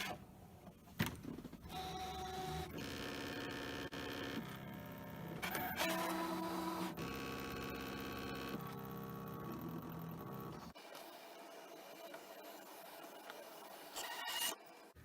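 A ScanNCut machine cutting self-adhesive vinyl with half cut on, a steady mechanical whir and buzzing motor with shifting tones and scraping, close, ending in a quieter hum and a final clunk.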